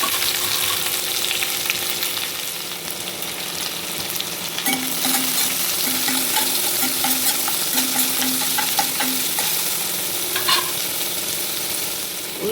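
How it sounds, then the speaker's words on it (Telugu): Onions and green chillies frying in hot oil with tempering spices, a steady loud sizzle and crackle throughout, with occasional stirring scrapes and a few sharper pops, no voices. "చిటపట అన్న తర్వాత పచ్చిమిర్చి, ఉల్లిగడ్డ వేసి వేయించుకోవాలండి."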